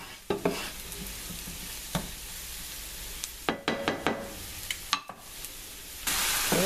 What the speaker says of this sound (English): Okay, I just added the puree. I'm stirring it.